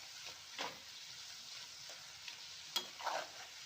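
Nendran banana chips deep-fry in oil for a home recipe, giving a faint, soft bubbling hiss with a few scattered light clicks and scrapes, quiet and close, with no talking.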